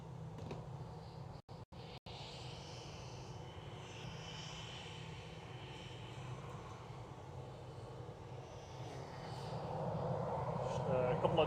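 SunExpress airliner climbing out after takeoff from Manchester Airport, a faint distant jet rumble that swells louder toward the end, with a voice speaking over it.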